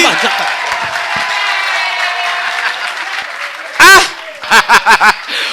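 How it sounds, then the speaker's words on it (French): A live TV show audience applauds, a dense wash of clapping under music and voices, ended by a few sharp bursts of sound. "On applaudit pour Tomé Chéri."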